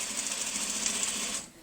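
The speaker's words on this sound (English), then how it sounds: "I'm going to sew all the way to the end." A sewing machine runs steadily for over a second, stitching a locking seam on quilt top sections under the presser foot, then stops abruptly near the end; it is close and alone with no talk.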